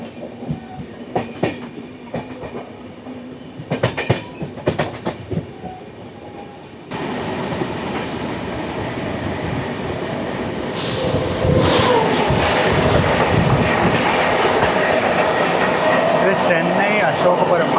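A Chennai–Ashokapuram–Mysuru Intercity Express passenger train crosses close by, its loud rolling rumble and rhythmic wheel clatter building steadily after a quieter stretch of sharp clicks, then swelling further as the carriages pass.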